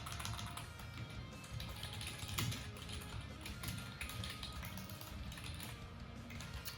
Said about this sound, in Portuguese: tô digitando tudo errado